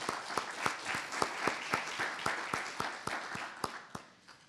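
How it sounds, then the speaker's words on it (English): Applause from a conference audience at an environmental education keynote event, a steady crackle of many hands with sharper individual claps standing out, holding at moderate level for several seconds before tapering off. "So if we can give them a round of applause."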